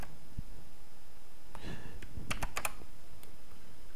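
Typing on a computer keyboard while working in editing software, a quick burst of a few close, crisp key clicks in an otherwise quiet room, with no talk.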